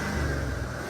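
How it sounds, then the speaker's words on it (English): Corvette engine revving in a garage, a brief loud mid-pitched engine roar held steady, close up. "he's gonna rev it"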